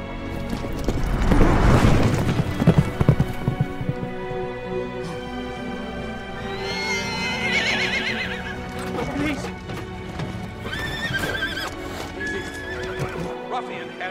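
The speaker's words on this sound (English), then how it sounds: "there's still a horse running." Racehorses at a match race loudly neigh and whinny over pounding galloping hooves, with crowd noise and excited talk running throughout.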